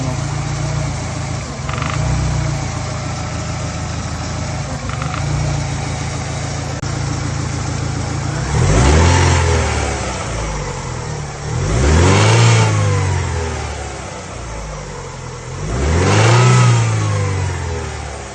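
A car engine idles steadily during a MAP sensor diagnosis, then revs up three times in strong rising-and-falling surges, each settling back to idle; loud and close with no talking.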